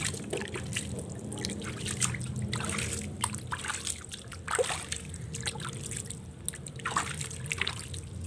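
Water trickling and dripping into clay soil in a basin, soft intermittent splashes and dribbles, faint and close, with no talking.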